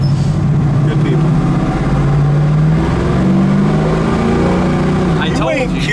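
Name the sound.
car engine revving as it accelerates away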